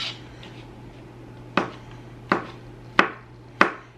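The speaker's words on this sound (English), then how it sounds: "And then I need to cut some spinach and some olives up." A fillet knife chopping spinach and olives on a board, four sharp separate chops spaced about a second apart, close and clear over a faint steady hum.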